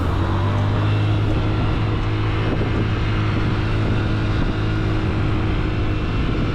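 A cheap vintage scooter accelerates along a straight road, its small engine droning steadily under heavy wind rush, loud and continuous with no voices.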